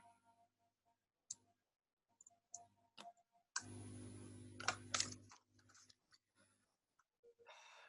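Computer keyboard keys clicked while a search for a shower mat is typed on Amazon, in scattered light taps followed by a denser burst of keystrokes, fairly close and quiet with no talk.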